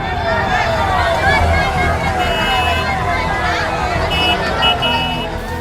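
Dense crowd noise at Pawan Singh's election road show in Dhanwar, Karakat, a constant babble of many voices with faint vehicle sounds and brief high tones mixed in.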